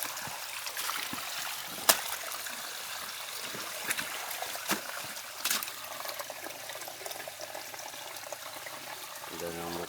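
Water from a natural spring flows and trickles steadily outdoors, a soft broadband rush with occasional sharper splashes and clicks, moderately near, with faint background sounds throughout.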